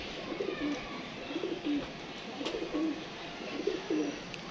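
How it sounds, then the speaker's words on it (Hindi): A pigeon perched nearby gives repeated soft, low coos in a steady rhythmic pattern, close and clear over faint outdoor background noise. "ये देखें जी कबूतर है दोस्तों।"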